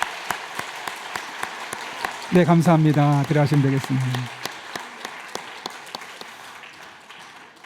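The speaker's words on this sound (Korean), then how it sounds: "우리 함께 인사할 때 큰 박수로 환영하시겠습니다" A church congregation at Sunday worship claps to welcome the new pastor's family, scattered sharp claps continuing while someone speaks briefly over them in the middle.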